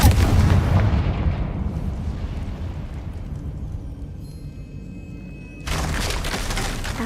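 A Confringo blasting spell from Hogwarts Legacy, heard as a loud, booming blast that rumbles and slowly decays over several seconds before a fresh burst of noise swells near the end, with no talking.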